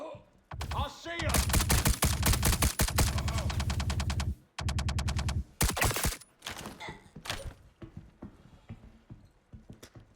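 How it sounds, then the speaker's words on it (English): Light machine gun fire in the video game Star Citizen, long rapid automatic bursts that are loud and close, broken by short pauses, followed by a few scattered shots and quieter clatter. "Sound like a LMG."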